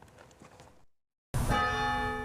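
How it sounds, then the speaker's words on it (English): A single church bell strikes loudly in Huntsville after a brief silence, one of 21 tolls for military honors, its rich ringing tone sustaining and slowly decaying, preceded by faint background murmur. "21 bell tolls representing military honors rang over Huntsville on Thursday"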